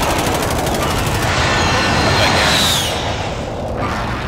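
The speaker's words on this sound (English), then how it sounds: "Friendly precision airstrike inbound." A precision airstrike in a first-person shooter game pounds the area with rapid, overlapping blasts and rattling fire, a loud, dense, continuous roar that swells and then tails off.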